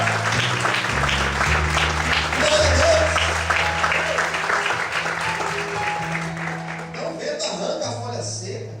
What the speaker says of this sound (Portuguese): Todos podem aplaudir